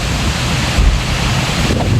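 Heavy rain and strong wind lash down during a storm with lightning in Malaysia, making a loud, continuous roar of rushing air and water buffeting the microphone, with no voices.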